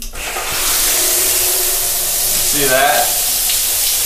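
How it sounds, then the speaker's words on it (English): A shower in a Singapore bathroom sprays water in a loud, steady hiss at close range, and a person briefly talks over it. "That is a shower."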